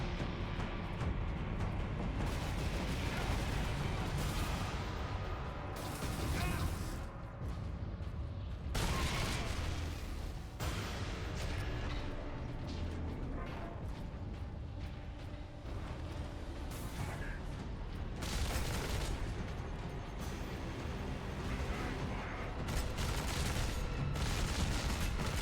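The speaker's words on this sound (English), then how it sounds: "They like their grenades, don't they?" Grenade blasts and heavy battle noise fill Warhammer 40,000: Space Marine, with repeated booming bursts surging over a dense, continuous din of gunfire and clanking mechanisms, loud and close throughout.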